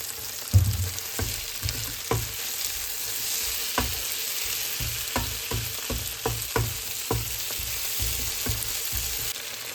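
Vegetables for paneer butter masala sizzle steadily in a pan, salted as they soften, with a continuous frying hiss broken by repeated scraping stirs at irregular intervals, close and fairly loud, no talking.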